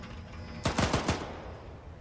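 Burst of automatic gunfire in the military shooter game Arma 3, four rapid loud shots in quick succession mid-clip, standing out sharply against quiet background ambience.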